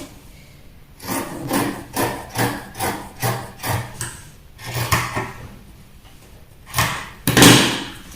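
Shears cutting fabric for a four-piece skirt make a rhythmic series of crisp snips and rustles, close and regular, pausing briefly before a final louder cut.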